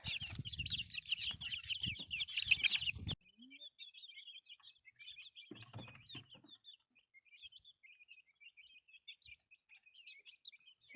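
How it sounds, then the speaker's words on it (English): Young chickens cluck and chirp in quick, bright, repeated calls, busier at first with rustling and handling noise close by, then thinning to a faint, steady chatter of peeps. "Sounds like some happy chickens to me."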